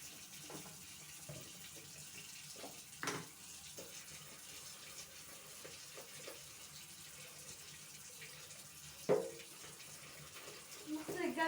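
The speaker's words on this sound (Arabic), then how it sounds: "نغسل الجردة ونخليه يبرق كده" Water runs steadily from a tap into a sink while a bucket is washed, a low continuous wash with occasional knocks and splashes, and a voice speaking faintly over it.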